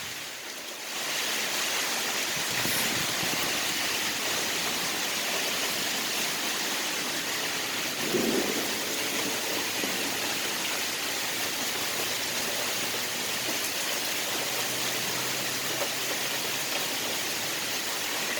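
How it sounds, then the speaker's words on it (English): Steady, dense broadband hiss of rain pouring during a thunderstorm, heavy and continuous close around the recorder, with a brief knock partway through and no speech. "I'm getting rain all over my lens right now"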